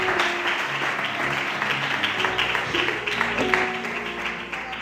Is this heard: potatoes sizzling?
no